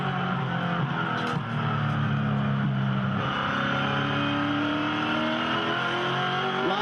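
A V8 Supercar race car at Barbagallo, with a loud, continuous engine note rising and falling as it brakes and accelerates around the circuit, heard up close without pause.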